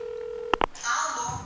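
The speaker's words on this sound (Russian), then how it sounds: "Позвони и прикольнись с Валей" Phone keypad dial tones beep as a number is entered, a steady tone followed by two short beeps, then background voices and room noise rise afterward.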